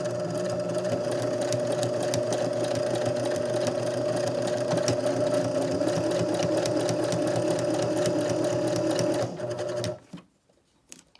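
Close, loud sewing machine hums and clatters continuously as it stitches a fabric face mask, then stops abruptly near the end, leaving brief quiet handling sounds and no talking.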